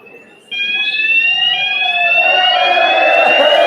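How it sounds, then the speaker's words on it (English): A stadium fire alarm blares during a football match, a steady high electronic tone that starts abruptly and holds loud and continuous over crowd murmur. "looks like the fire alarm's gone off."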